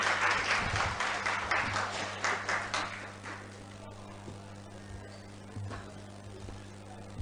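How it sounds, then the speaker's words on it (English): An audience applauds for a senior counsel at a women in alternative dispute resolution networking event, a dense burst of clapping that is loudest at first and gradually thins and fades over several seconds. "Round of applause for Mr."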